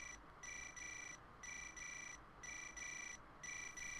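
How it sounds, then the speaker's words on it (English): A phone ringing in the Parasite Eve II video game, a regular electronic ring in short repeated pulses with gaps between them, faint and steady with no talk. "Why is the phone ringing?"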